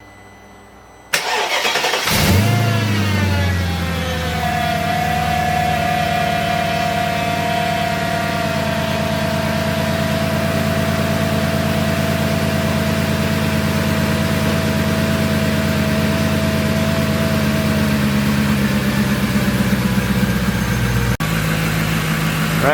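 Supercharged Mercedes M113K V8 swapped into a CLK55 AMG cranks and catches, then settles into a steady, loud idle with a constant supercharger whine layered over the deep rumble, running smoothly without interruption.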